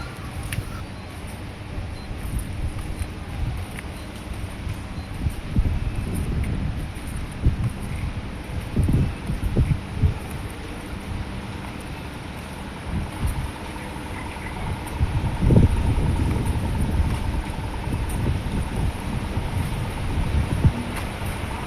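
Water surging and splashing as cars push waves across a deeply flooded road at a bend in the Sapan area of east Bandung, a steady rushing wash with a louder surge midway, heard alone.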